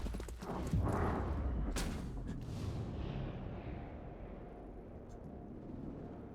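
A breaching charge blows in the video game XCOM Chimera Squad, a sharp, loud blast after a moment that trails into a decaying rumble.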